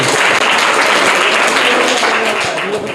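Loud, continuous applause from a school audience for schoolchildren at a quiz competition, a dense wash of clapping filling the whole moment.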